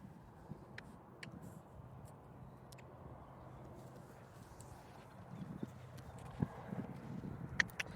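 A four-year-old mare's hooves clop softly on the ground at a slow walking pace, faint and somewhat distant over a low background rumble.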